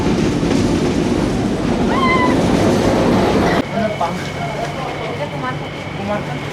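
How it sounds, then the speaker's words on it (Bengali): The Benapole Express passenger train running on the line, a loud continuous rumble with rhythmic clatter, faint high squeals and tones over it, the sound dropping and changing in character midway. "বেনাপোল এক্সপ্রেস যেন নিজেই তার ছন্দ জানিয়ে দিচ্ছে"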